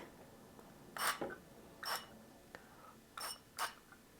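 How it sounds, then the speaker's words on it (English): Four short hissing bursts of an oil sprayer spraying canola oil, spaced irregularly over a few seconds, close by in a quiet room. "let's first test this oil spray."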